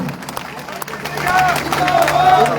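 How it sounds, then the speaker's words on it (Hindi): Crowd at an outdoor election rally for Rajbir Dahiya in Meenakshi Colony claps loudly and steadily, a dense patter that swells midway, mixed with crowd murmur and a faint tonal whistle. "एक बार फिर जोर से तालियां बजा दो"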